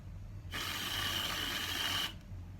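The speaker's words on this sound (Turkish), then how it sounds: "Sprey kremamı sıktım." A can of spray whipped cream releases a single continuous pressurized hiss onto a coffee drink, lasting about a second and a half, close and fairly loud, with quiet room tone before and after.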